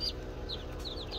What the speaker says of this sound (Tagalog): So ito na yung mga sisiw mga farmers.